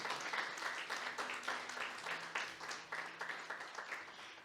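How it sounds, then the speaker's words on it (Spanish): A church congregation claps in a steady rhythmic beat, many hands together in a moderately distant, even applause that continues throughout. "Denle ese aplauso porque es para el Rey de Gloria."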